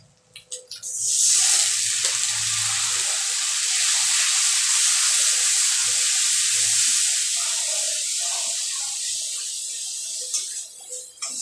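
Prawns frying in hot oil as ground spices are tipped in, a loud, steady sizzle that flares up sharply after a few clattering knocks at the start and then hisses on evenly, with faint clinks beneath.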